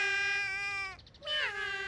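Voices mimic cat meows in a cartoon: one long sustained meow, a brief break, then a rising second meow, close and clear.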